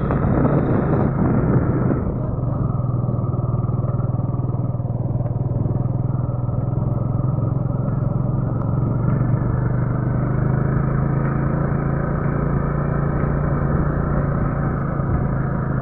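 Close, constant rumble of a motorcycle being ridden, the engine drone holding steady for the whole stretch with some wind buffeting and rattle mixed in, and a slight pitch drop early on.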